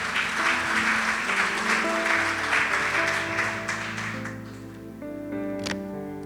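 Church congregation applauding, a dense broadband wash of clapping across the first four seconds while sustained organ or keyboard tones play beneath, the clapping thinning as the music carries on alone.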